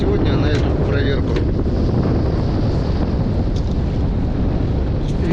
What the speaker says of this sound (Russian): Ветер все сильнее и сильнее.